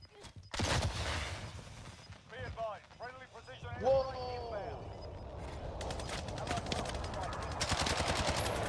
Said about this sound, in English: they're shooting off of the tower right now